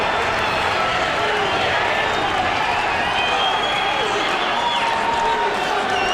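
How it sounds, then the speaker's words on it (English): A UFC arena crowd cheers during a fight, a dense, sustained roar that fills the space while a commentator's voice talks over it. "Listen to this crowd."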